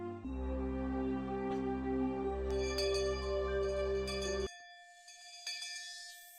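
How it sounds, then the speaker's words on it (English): A principal's bell rings at school in the Higurashi visual novel game, a ringing metallic tone sustained for several seconds, ending abruptly with a fainter tail of a higher ring, no talk. "Finally, we heard the principal's bell ringing."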